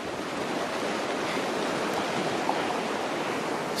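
A river flows beneath a footbridge in Wyoming's Wind River Range, making a steady, close rushing wash with no voices, unbroken for the whole stretch.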